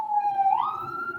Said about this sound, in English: Oh, it sounds like there's a siren in the background.